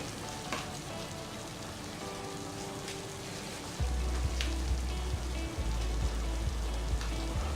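Turmeric and masala spice powders sizzle in a pan over a low flame, a steady hissing frying noise that thickens and grows louder partway through, with no talk.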